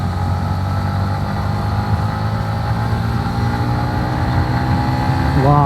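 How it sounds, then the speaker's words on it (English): Yamaha MT-15 motorcycle engine running steadily loud and close with a sustained drone, climbing in pitch near the end as it revs past 7400 RPM. "as soon as that 7400 RPM crosses, this bike just turns itself into something else"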